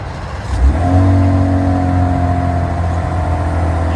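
A 2026 RAM Rebel pickup with an inline-six engine starts remotely and settles into a steady, smooth idle, a low, even rumble heard close by with no talking over it.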